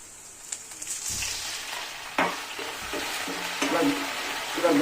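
Curry leaves dropped into hot oil for mutton dalcha, giving a soft, steady sizzle with a few sharper crackles and spoon-stirring clinks, close by and moderately quiet, with no speech.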